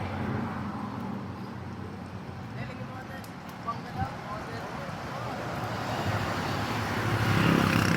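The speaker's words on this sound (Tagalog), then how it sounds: "Let's go! 25 na motor, pupunit ng kalye." Group of about 25 motorcycles riding together through a street in Olongapo, Zambales, a steady engine drone that swells louder toward the end, with voices talking over it.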